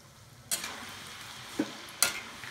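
Fish fingers frying in a pan of oil, giving a low, steady sizzle, broken by a few sharp clinks or scrapes as they are turned or stirred.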